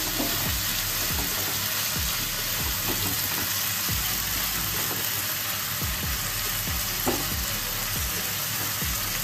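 Capsicum and spring onion fry for veg Manchurian, a steady, loud sizzle with repeated rhythmic stirring taps of a utensil against the pan.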